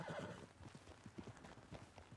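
Hooves clip-clop in a quick, uneven gallop as a horse arrives in Red Dead Redemption 2, close and fairly loud, with a faint whinny near the start.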